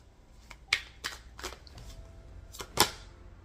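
A deck of tarot cards is shuffled close by in several quick, crisp riffles and snaps, separated by short pauses, in an otherwise quiet room.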